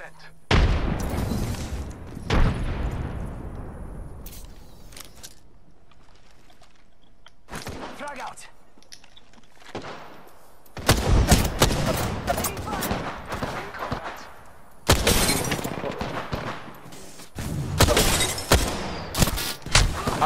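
Apex Legends combat brings repeated sharp gunshots and booming blasts, likely including a frag grenade explosion, in heavy bursts with quieter gaps, while players talk throughout.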